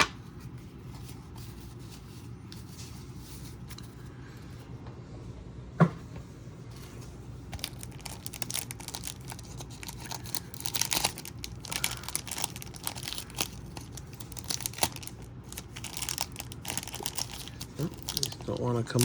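Wax packs of 1987 Topps baseball cards torn open by hand, with close, steady crinkling and ripping of the wrappers and cards shuffling, growing busier and louder toward the end.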